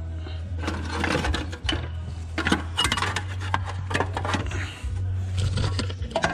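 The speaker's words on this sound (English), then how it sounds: "I'm gonna reach my hand up there and get that last heat shield bolt off." Ratcheting and metallic clinks of a wrench removing a heat shield bolt under a Duramax diesel truck, rapid and close, over a steady low hum.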